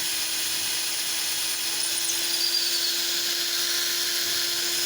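A drill boring a hole through a guide for rudder linkage bolts on a scratch-built FP202 model, giving a steady high-pitched whine that runs continuously throughout with no pauses.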